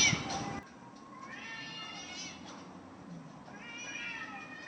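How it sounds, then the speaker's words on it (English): Two cats meow repeatedly while a crow harasses them, the cries rising and falling in drawn-out calls over a steady background hiss, with a short noisy burst at the very start. "Have you ever seen that video of a crow that's messing with these two cats?"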